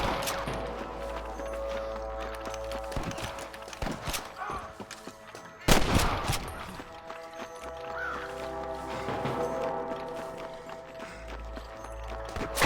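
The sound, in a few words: gunfire in a shootout in the video game Red Dead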